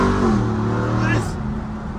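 A Dodge Ram TRX pickup revs hard at full throttle, a loud close engine roar with a rising then falling pitch that eases off after a second.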